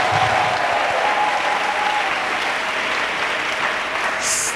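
A church congregation applauds for Jesus Christ with sustained, dense clapping from a large crowd. It stays loud and even throughout, with a few faint voices underneath.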